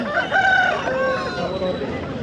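A fighter rooster at a poultry market in Hoskote, Bangalore Rural District, crows loudly and close, one long drawn-out call with a rising then falling tone, standing alone.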